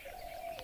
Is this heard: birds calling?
yes